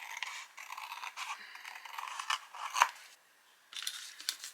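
Scissors snip through card while a Christmas gift box is being trimmed, giving close, crisp scraping cuts in short bursts with a brief pause before the snipping resumes.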